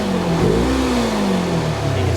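A 2022 Polaris RZR Trail S side-by-side engine revs hard at full power, a loud sustained mid-pitched drone that rises and falls slightly, heard close up with no speech.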